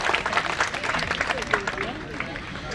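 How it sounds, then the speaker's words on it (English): Applause from a crowd at an independence celebration in Pohnpei, a dense, steady wash of many hands clapping at once, with some murmuring voices mixed in. "One more round of applause, please."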